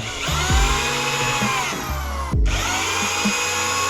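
Power drill driving deck screws into a wooden door frame stud, with two or three bursts of the motor whining up as the screws bite, near and loud, without talk.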